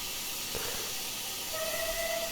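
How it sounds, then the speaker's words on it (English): Steam whistle of a Highland Railways Jones Goods 4-6-0 locomotive in Train Simulator Classic, starting after a short hiss and holding a steady tone that ends abruptly, alone with no talk. "The whistle's alright."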